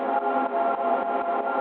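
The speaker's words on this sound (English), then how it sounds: "into a big reverb." A dub techno loop runs through a big reverb, a washed-out, band-limited chordal texture that pulses in a steady rhythm, moderately loud with no voices.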